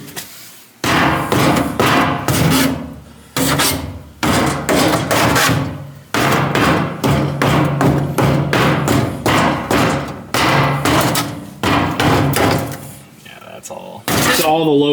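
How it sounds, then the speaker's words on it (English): Heavy metallic welding-hammer blows land in irregular bursts on the body panels of a Ford Galaxie, loud and close, with short pauses between strikes. "the best thing to use is a welding hammer."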